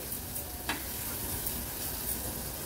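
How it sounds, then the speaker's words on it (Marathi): Agri Koli masala sautéing in oil gives a steady, moderately quiet sizzle broken by a few soft stirring scrapes, with no voices. "व्यवस्थित हा मसाला आपल्याला तेलावर असा परतून घ्यायचा आहे"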